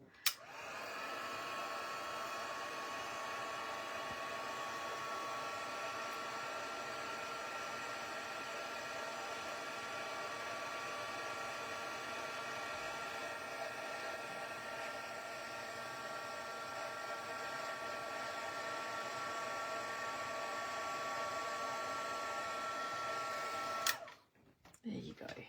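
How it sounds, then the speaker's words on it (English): A handheld embossing heat tool blows hot air in a continuous whirring hum with a faint whine, clicked on and running steadily for over twenty seconds before being switched off. "So I'm going to turn my heat tool on now."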